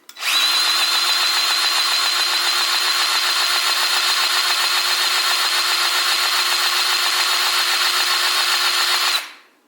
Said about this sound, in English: So you have the grease gun here, and I have a 5 amp hour battery on it